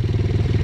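A motorcycle that has been crashed into a tree idles close by, its engine giving a rapid, even chugging pulse throughout a brief moment.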